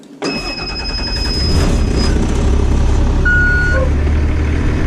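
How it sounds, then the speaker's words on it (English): A school bus engine cranks and catches during a pre-trip brake test, then settles into a loud, steady diesel idle, with brief electronic beeps from the dashboard over the rumble. "We're going to start it back up."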